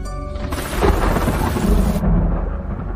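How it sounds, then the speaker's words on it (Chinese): Thunder rumbles with heavy rain in a downpour during a lightning storm, a loud continuous roar swelling and churning for a few seconds with no voices. "天降暴雨，电闪雷鸣"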